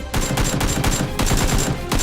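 Rapid rhythmic clacking bursts from Nerf guns firing in a Nerf war, a steady stream of close, sharp shots repeating several times a second with brief pauses.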